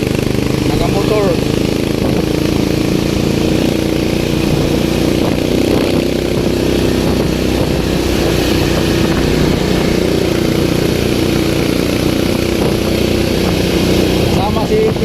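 A motorcycle engine rumbles continuously nearby, a steady low idling drone that fills the whole stretch with faint voices mixed in underneath.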